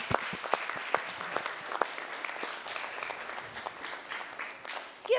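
A live studio audience at an Italian television variety broadcast claps steadily, with a few sharp individual claps standing out early before the applause settles into an even, sustained patter that swells again at the end.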